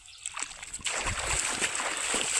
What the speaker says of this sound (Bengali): প্রচুর বৃষ্টি আছে ভাই